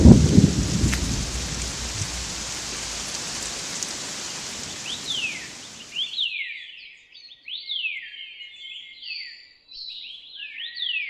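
Steady, loud rain of late spring hisses for about six seconds, then stops abruptly, leaving bird chirps and whistles in quiet.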